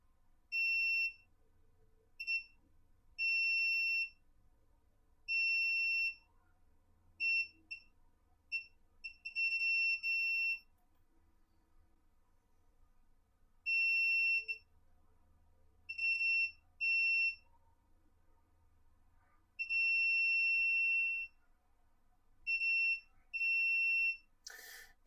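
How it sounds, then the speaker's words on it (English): An electronic continuity-tester beep sounds on a workbench during a Nintendo Switch 2 Joy-Con repair, clear high tones sounding in repeated bursts of varying length with quiet gaps between, over a faint low hum. "Turn that beep off."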